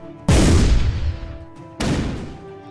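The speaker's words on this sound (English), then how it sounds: "Oh no, grenade!" Two heavy explosion blasts in the artillery game ShellShock Live, a loud booming burst that rumbles and fades, followed about a second and a half later by a second, slightly softer detonation.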